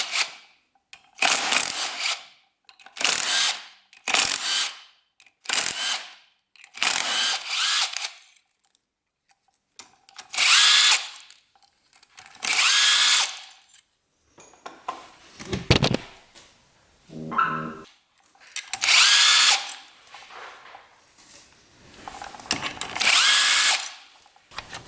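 A power tool on a Honda TRX 700 quad, removing the clutch, whirs in about a dozen short, loud bursts separated by brief pauses, with a little ratcheting clatter between them and no talk.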